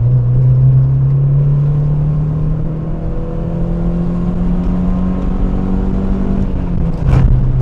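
A 127-horsepower Honda Civic EJ engine pulls steadily, its droning hum rising slowly in pitch as the car accelerates, heard from inside the car, ending with a brief thump.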